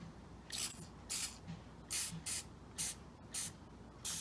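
WD-40 sprayed from an aerosol can onto the grill bolts of a 2002 Ford F-150, seven short sharp hissing bursts in quick succession, close and distinct against a quiet background.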